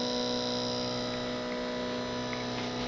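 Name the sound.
4.4V stepper motor running at 12V with EasyDriver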